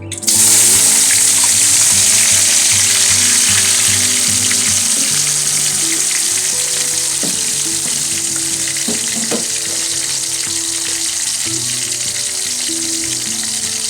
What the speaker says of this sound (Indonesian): Pertama kita tumis dulu